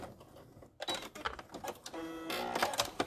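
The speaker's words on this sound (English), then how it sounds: "I'm going to go to the end and back stitch" A sewing machine back stitching curtain fabric, heard as a close, quick mechanical whirring and clatter in short bursts.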